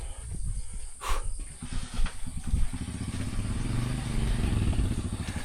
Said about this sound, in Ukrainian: ми виїхали на байку